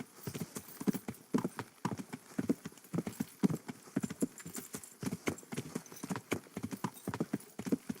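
A horse's hooves clip-clop in the medieval video game Kingdom Come: Deliverance. The hoofbeats are close and clear, a steady trotting rhythm that keeps going for several seconds without talk.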